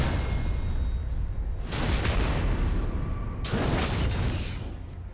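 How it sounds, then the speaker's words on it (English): Loud rumbling explosion blasts in Elden Ring at Volcano Manor, two big bursts a couple of seconds apart over a constant noisy roar. "Stupid explosions, just terrible."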